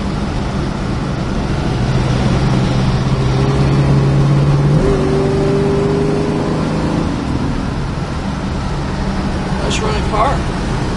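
A 1966 Mercury Cyclone GT with its original Holley carburetor and a 3-speed Ford transmission runs steadily on the road, its engine droning low, with a clear shift in pitch about halfway through and possible faint talk beneath.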